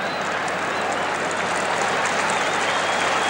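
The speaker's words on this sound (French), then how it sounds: "Eh bien, le public applaudit" A packed rugby stadium crowd at a 1979 New Zealand versus France test match in Auckland applauding steadily, a thick, continuous wash of clapping and cheering noise throughout.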